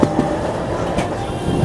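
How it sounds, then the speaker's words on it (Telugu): The Sabari Express rolls slowly into Guntur station, its wheels and carriages rumbling and clicking steadily nearby, with a few sharper rail knocks along the way. "అదిగోండి అది స్లోగా వస్తుంది స్టేషన్లోకి"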